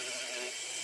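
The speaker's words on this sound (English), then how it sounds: "I'm going to use my drill and clean up the edges going around the nail so that they can look more natural" An electric nail drill whirs at high pitch, steady and close, as it cleans up the edges around a DIY stiletto nail, with no talking.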